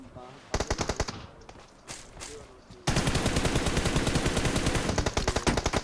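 Rapid automatic gunfire from the mobile battle-royale game PUBG Mobile, a few short bursts giving way to a long, loud, continuous stream of shots.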